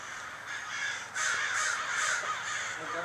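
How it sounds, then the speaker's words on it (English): A large flock of crows cawing on and around a rooftop, with dense, overlapping loud caws that continue without a break and strengthen partway through. "There's so many crows. They're like literally flying."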